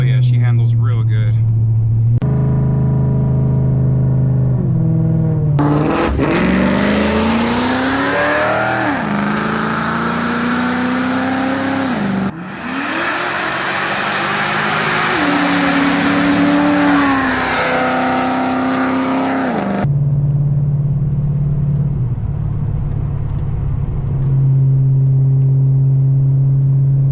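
A fully built Mercury Marauder "Black Widow" idles with a deep, steady rumble, then revs hard and accelerates through corners. The engine note climbs and falls in loud, close bursts before settling back to a low idle.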